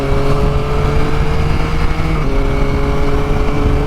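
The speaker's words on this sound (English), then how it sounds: "Yeah, that engine's got a lovely note to it." Loud, close engine note of a 2021 Yamaha Tracer 9 GT motorcycle revving under way, a steady buzzing drone that shifts pitch briefly midway, with wind noise throughout.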